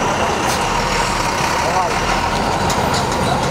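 Several cars starting and idling together outside a film screening at a studio, a steady dense engine rumble with busy crowd noise and voices throughout.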